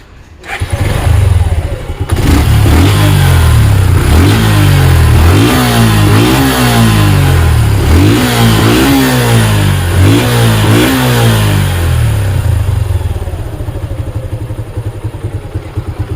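A lightly used black Suzuki Gixxer Monotone motorcycle idles, then revs in repeated loud, rising and falling surges close by before settling back toward idle, with no talk over it.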